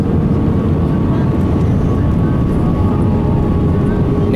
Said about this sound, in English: Wait, we're on the runway.